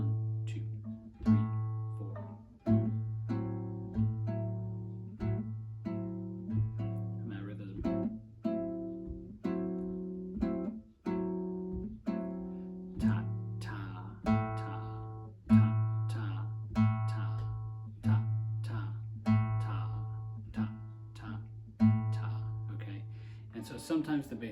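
Bossa nova rhythm guitar in 4/4 with half-note bass, steady low sustained bass notes under evenly repeating plucked chord strums, played alone and close.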